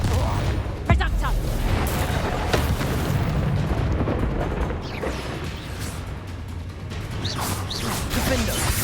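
A Reductor curse blasts in Hogwarts Legacy, a sharp boom near the start giving way to rumbling battle noise, crackles and scattered impacts, with spell-casting voices and combat sounds throughout.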